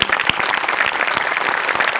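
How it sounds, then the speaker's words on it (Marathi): Loud, dense applause from a studio audience at a Marathi comedy show, honoring the costume department, with sharp individual claps close by in a continuous burst. "कॉस्ट्युम डिपार्टमेंटसाठी एकदा जोरात टाळ्या होऊन जाऊ देत"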